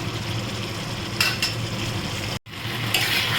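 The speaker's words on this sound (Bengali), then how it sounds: "দেখো, এটা আমি কিছুক্ষণ কষিয়ে নিচ্ছি" Papaya kofta masala is sautéed and stirred in a pan, with a steady low sizzle and occasional utensil scrapes and clinks against the metal, close up and with no voices.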